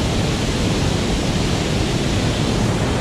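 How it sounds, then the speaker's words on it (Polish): A rushing mountain river in Brecon Beacons National Park in February, a loud, dense, unbroken roar of fast water close by, with no voices over it. "Rzeka Górska."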